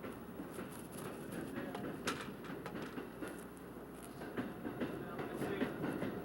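A train passes at moderate distance with rhythmic clacking of wheels over rail joints and a steady rumble, a pusher engine at the rear, with faint voices in the background.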